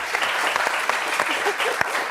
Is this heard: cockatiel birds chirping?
no